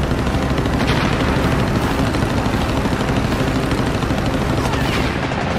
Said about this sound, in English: From 200 feet away, the Japanese plane fires.